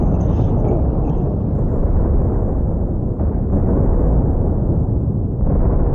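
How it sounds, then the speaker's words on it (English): Railguns fire in The Last Starship space combat game, a loud, continuous heavy booming rumble that rolls on without pause throughout. "Railguns firing, drones doing repairs."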